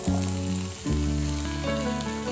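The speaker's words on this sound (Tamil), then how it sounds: "நம்ம மட்டன் மசாலாவுக்கு தேவையான சின்ன வெங்காயத்தெல்லாம் வதக்கி எடுக்க போகிறோம்" About twenty peeled, chopped small onions sauté in hot oil for a village-style mutton curry, giving a steady, loud, close sizzle with an oily crackle and a brief dip where something is moved or added.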